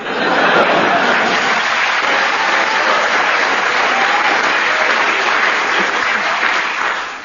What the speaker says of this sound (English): I don't know what you're clapping for.